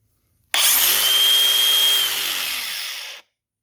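A DeWalt DCG412B/DCG416B angle grinder spins up with a sharp whine, holds a steady high-pitched run, then the electric brake drops the pitch quickly before it cuts to silence.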